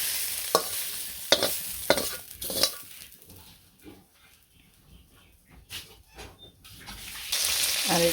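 Masala-spiced fish frying in a village kitchen, with intermittent sizzling bursts and sharp clinks of a utensil against the pan, quieter stretches between, close by and without speech.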